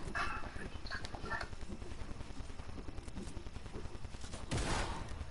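Rapid bursts of gunfire from a PS4 shooter game rattle on in a dense, continuous fusillade at low level, with one sharper, louder blast near the end.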